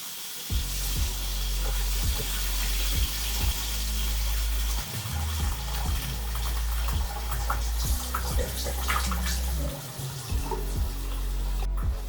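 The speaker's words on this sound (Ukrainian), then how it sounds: "Ось, наприклад, попадає вода." Water running and splashing onto a floor-mounted leak sensor in an apartment under renovation, a steady close hiss with low thumps throughout.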